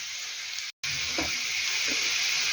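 Steady close sizzling of potatoes frying in a pan, with a brief dropout and a couple of soft stirring scrapes.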